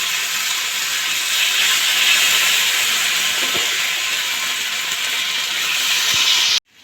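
Potato-besan fritters frying in hot oil on a tawa, a loud, steady sizzling hiss that continues evenly and then cuts off abruptly at the end.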